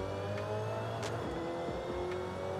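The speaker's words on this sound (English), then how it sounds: "this is what it sounds like inside the car" Steady engine drone of a Jaguar XFR-S sports sedan in Forza Horizon 5, heard from inside the car, a constant hum with occasional shifts in pitch as it runs.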